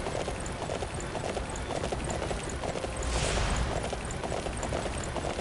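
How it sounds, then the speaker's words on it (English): Rapid, rhythmic hoofbeats of a horse in the video game Dynasty Warriors 9 clop along continuously with a brief whooshing rush partway through. "Oop, horse moved on its own, then."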